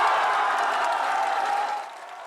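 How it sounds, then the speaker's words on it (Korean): A crowd cheers and applauds, celebrating the success of a bid to host the Olympics, a dense roar of clapping and voices that holds steady and then eases off toward the end. "유치 성공에 온 국민이 환호했습니다."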